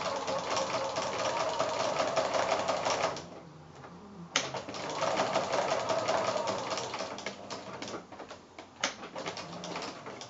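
A sewing machine blanket-stitching appliqué leaf fabric with variegated thread runs in two rapid rattling bursts separated by a short pause, with faint noises between.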